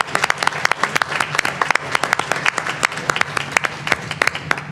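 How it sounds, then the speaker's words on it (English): A board of education meeting room claps for school principals, a modest crowd giving brisk, close applause with distinct individual claps audible throughout. "just let us give you a clap"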